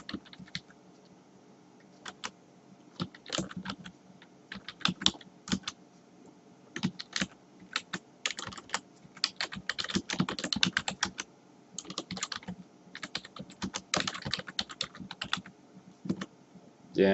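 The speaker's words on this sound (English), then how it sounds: "type in project name" Continuous computer keyboard typing while a project name is entered into RETScreen Plus energy-analysis software, with irregular bursts of rapid key clicks and short pauses between them, close and alone with no talking.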